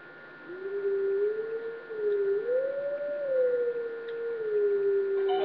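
A wolf howl from The Legend of Zelda: Twilight Princess, one long wavering tonal call that rises and dips for several seconds over a faint steady game hum.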